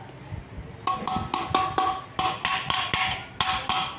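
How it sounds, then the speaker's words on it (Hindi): A hammer taps a metal bowl into a ceiling fan during repair, striking about a dozen sharp, ringing metallic knocks in a fairly even rhythm, close and clear with brief pauses. "अब इसको हम धीरे धीरे हथौड़ी से ठोकेंगे।"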